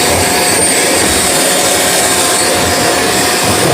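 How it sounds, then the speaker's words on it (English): A vacuum cleaner runs steadily while drawing dust from a dryer vent during cleaning, a loud continuous broadband roar with a whooshing airflow that holds level throughout with no talking. "now you're going to turn the vacuum cleaner on"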